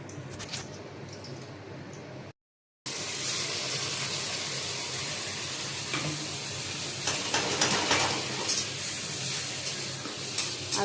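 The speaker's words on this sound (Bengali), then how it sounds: "তেল গরম হয়ে গেলে এই যে দিয়ে দেবো তেজপাতা এবার পেস্ট করা মশলাটা এর মধ্যে দিয়ে দেবো" Bay leaves and spice paste fry in hot oil for an egg fritter curry. A steady, busy sizzle runs throughout, breaks briefly near the start, then resumes louder with crackles and stirring scrapes.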